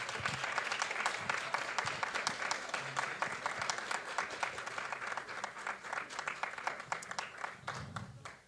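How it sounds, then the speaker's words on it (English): Audience at the Falling Walls Lab Ecuador 2025 science pitch awards ceremony breaks into sustained, dense applause, steady clapping from a crowd filling the room throughout without a break. "And a big round of applause."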